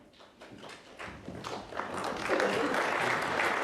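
Audience applause building in a snooker arena at the 2024 World Snooker Championship semi-final for Stuart Bingham's half-century break, starting with scattered claps and swelling into fuller, steadier clapping.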